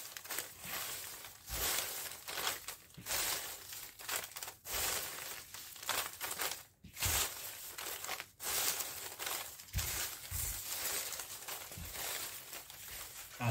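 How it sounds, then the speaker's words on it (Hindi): Paper slips for a lucky draw being shuffled by hand, continuous close crinkling and rustling with irregular bursts and brief pauses, fairly loud and with no talking. "एक बार अच्छी तरह से शफल कर देता हूँ।"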